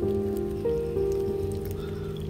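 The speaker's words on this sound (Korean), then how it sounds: "지금 그냥 공원에 빗소리 듣고 가만히 앉 있습니다" Rain falling steadily in a park on a rainy evening, a continuous close wash of drops with a faint steady hum underneath, no voices.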